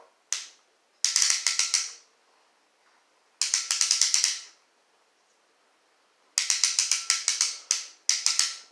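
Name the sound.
ratcheting hand brace ratchet clicking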